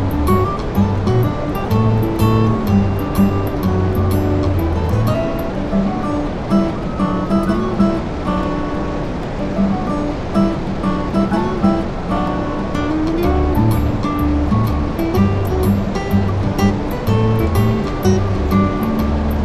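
Water rushing and churning steadily near Montmorency Falls by the St. Lawrence River, a loud continuous wash with wind buffeting the microphone throughout.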